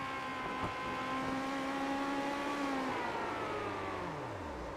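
Legends race car engine revving on a short oval track during a race broadcast, a far-off engine note rising and holding, then falling away as it decelerates, heard against a steady wash of crowd and track noise.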